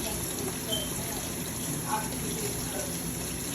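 Sea moss rinsed under a running tap for a small jar of gel, a steady broadband gush of water with faint handling splashes, close and continuous.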